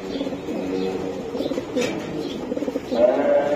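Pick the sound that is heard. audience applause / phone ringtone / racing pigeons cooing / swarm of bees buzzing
racing pigeons cooing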